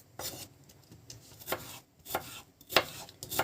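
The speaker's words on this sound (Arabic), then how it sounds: "هنقطع بقية البطاطس عشان نقليها في الزيت" A knife chops potatoes into thick fingers for frying, striking a cutting board in quick, irregular close-up cuts with brief pauses, quiet and without talking.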